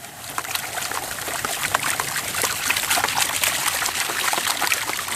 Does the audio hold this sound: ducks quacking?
no